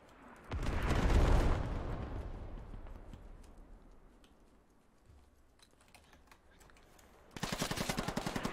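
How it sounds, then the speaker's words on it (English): An artillery barrage in the video game Operation Skira: a heavy rumbling blast swells and slowly fades, then rapid sharp bursts of gunfire break out near the end. "Here comes the barrage."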